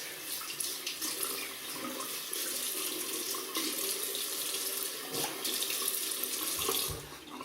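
Tap water runs steadily into a sink in a bathroom while someone wets their face before a shave, a continuous close splashing hiss with no talking.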